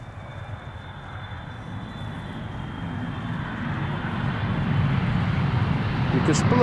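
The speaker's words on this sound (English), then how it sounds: "You can pull up those reversers now." An airliner lands in a crosswind at Amsterdam Schiphol, its engine rumble rising steadily in loudness toward the end as reverse thrust builds, with a faint rushing wind bed and no clear talk.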